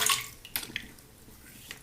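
A synthetic shaving brush is rinsed in water, with close sloshing and splashing that bursts at the start and then settles into softer trickles and drips, with no talking.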